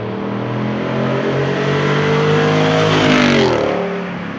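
A Jeep Wrangler Rubicon 392 with a V8 driving on the road, the engine loud and close as it revs up through rising gears in one steady pull, with no talking.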